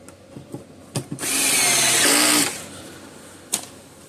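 Power drill driving screws into a Gallagher solar fence charger damaged by Hurricane Helene, one sustained whirring burst of about a second and a half, close and loud, with light clicks and handling taps before and after.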